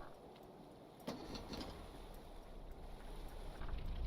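Steady low truck engine rumble in Stormworks: Build and Rescue, a constant drone with a small bump near the start, heard on its own with no talking.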